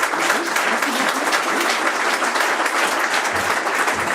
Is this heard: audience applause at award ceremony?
yes